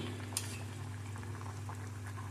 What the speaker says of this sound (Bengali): মাছগুলো দিয়ে আমি আরও 5 মিনিট ফুটিয়ে নেব।